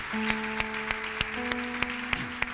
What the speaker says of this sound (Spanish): Un aplauso al Señor bien fuerte.